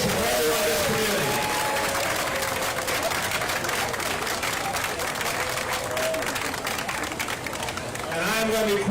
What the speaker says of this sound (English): give them a round of applause, show your appreciation for everyone in this community